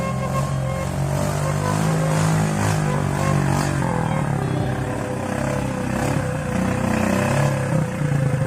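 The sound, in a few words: motorcycle engine revving while carrying another motorcycle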